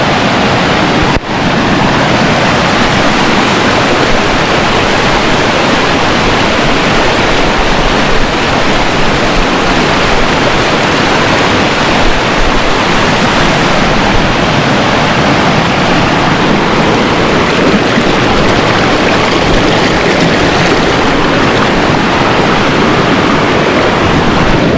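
Rough river water rushes loudly and continuously at close range in a hidden river in Portland, Jamaica, a dense, unbroken roar.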